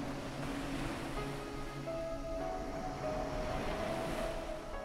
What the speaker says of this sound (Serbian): Neka zvuk vode smiri i utihne vaše misli.